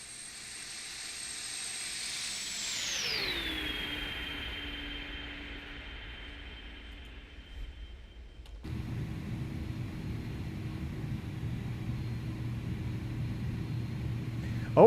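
An Airbus A300 SuperTransport passes by in a flight simulator, its engine whine sliding sharply down in pitch as it moves away, then giving way to a steadier, lower engine drone.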